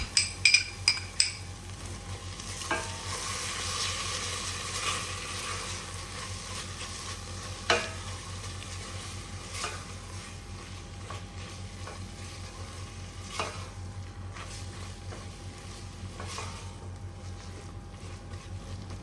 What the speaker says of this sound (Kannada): ಇದನ್ನು ಹಾಕ್ಕೊಂಡು ಒಂದು ಸಲ ಮಿಕ್ಸ್ ಕೊಡ್ತೀನಿ